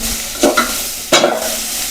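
Okra tossed in a hot oil tempering in a pan, a steady sizzle punctuated by two quick stirring scrapes close up.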